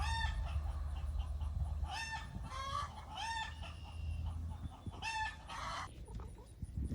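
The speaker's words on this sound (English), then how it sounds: "I'm having to come and check and see what these chickens going off about" Chickens cluck steadily while roosters crow several times, loud and close, over a constant low background rumble.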